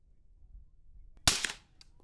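A single 5.56 rifle shot through an Exigent Defense Vanish suppressor, a sharp muffled crack with a short fading tail, set against quiet outdoor background.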